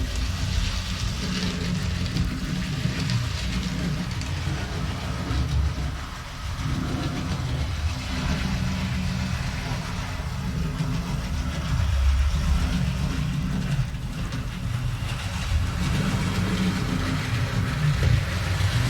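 A small motor whirs and rattles continuously as a model SR Q Class locomotive on a 0-6-0 chassis runs along, a steady buzzing clatter with slight rises and dips.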